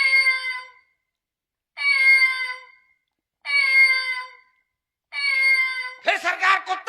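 A human voice imitates a cat meowing: four drawn-out, wavering meows spaced evenly apart, loud and close, followed by a short, rougher burst.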